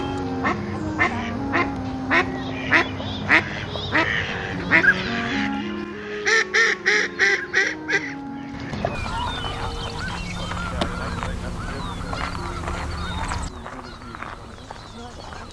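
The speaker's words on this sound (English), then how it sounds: "there is a lot of mallards going around here" Mallard ducks quacking at a bird sanctuary, with bursts of loud, close, rapid quacks over busy outdoor ambience, a tight rhythmic run of calls in the middle, and people talking through much of the scene.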